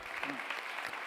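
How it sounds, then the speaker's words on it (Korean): Applause from an auditorium audience at a Korean-language community gathering with a Peru link, a steady wash of many hands clapping for just over a second, moderately loud and continuous. "박수."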